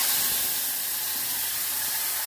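Fried onion, ginger and garlic paste hits hot oil with cumin seeds in a pan while making doi dharosh, giving a loud, steady, broadband sizzling hiss that cuts off abruptly.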